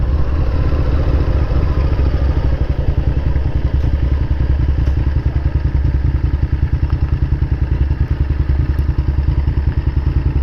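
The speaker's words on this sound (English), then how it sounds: "This is the perfect day to be out riding a motorbike." Motorbike being ridden on a warm day, a steady, loud, close engine with a rapid thumping beat running throughout, no talking.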